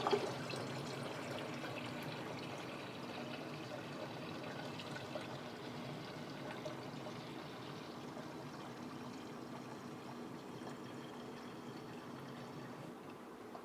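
Filtered water trickles and pours steadily into a pineapple, turmeric and ginger drink, a faint, continuous liquid stream with no talking.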